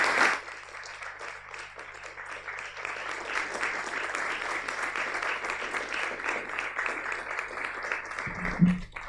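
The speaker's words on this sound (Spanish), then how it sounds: "me gustaría darle las gracias con un aplauso de todos" A seated audience at a talk on audiovisual writing breaks into sustained applause, a dense steady roll of many hands clapping for several seconds before tapering off at the end, with no talking.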